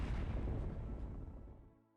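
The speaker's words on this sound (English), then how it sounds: "Background explosions." Explosions boom in the video game Battle for Wesnoth, a deep, rumbling, continuous blast that fades out over about two seconds with no talking.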